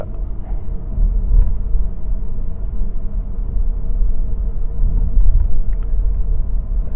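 A Cupra Born electric car accelerating gently on the road, heard from inside as a steady low rumble of road and drivetrain noise that holds a constant level throughout, with no engine revving.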